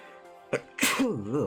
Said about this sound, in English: I apologize for the sneezing.